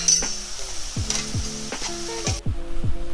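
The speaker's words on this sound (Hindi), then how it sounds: "अब 2 टेबल स्पून लहसुन अदरक का पेस्ट डालेंगे।" Garlic ginger paste frying in a pan for pav bhaji, a steady loud sizzle with repeated scraping stirs of a spoon against the pan, no talking.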